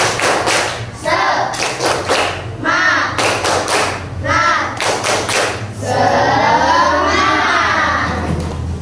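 Schoolchildren in a classroom clap in short rhythmic bursts of counted claps, with children's voices chanting between and over the clapping, close and loud.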